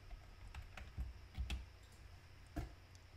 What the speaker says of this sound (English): To do that, we simply type Python,